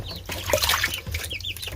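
Hungry chicks and ducklings in a brooder peep and cluck constantly in a dense, high-pitched chorus, close by, with some watery splashing mixed in.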